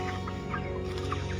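Chickens clucking steadily inside a 110-foot poultry farm shed holding about 2200 birds. The sound is a dense, continuous flock chatter with overlapping clucks, close and fairly loud, with no voices.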